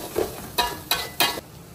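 A spoon stirs beef liver with spices in a hot pan, producing three sharp scraping strokes at a steady rhythm over a quiet sizzle.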